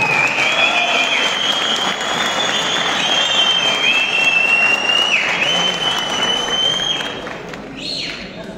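An audience at a Turkish youth gathering event in İnegöl applauds as a speaker is invited to the podium, loud sustained clapping that carries on for several seconds before fading slightly at the end.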